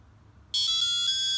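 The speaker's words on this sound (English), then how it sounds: "it will ring the buzzer according to the melody we created" A high, bright electronic buzzer on a microcontroller suddenly starts a steady beeping alarm melody, sustained and loud after a brief quiet start.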